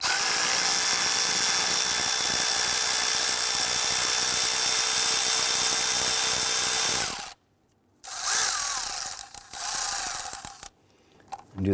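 A tool loosens an 8 mm fuel rail bolt on a 1999-2004 Jeep Grand Cherokee 4.7L V8 engine. A loud, steady whirring runs for about seven seconds, cuts out briefly, then resumes in shorter bursts.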